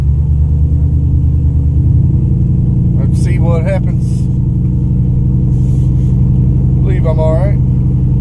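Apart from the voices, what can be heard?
pickup truck engine driving up a slope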